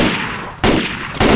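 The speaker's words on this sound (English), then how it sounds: "Stop shooting me" Bursts of gunfire in the Left 4 Dead 2 Dark Carnival campaign, two or three sharp, loud, close shots in quick succession over a short span.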